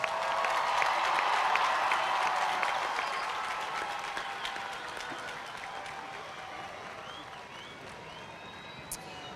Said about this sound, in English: How about a round of applause for the class of 2025?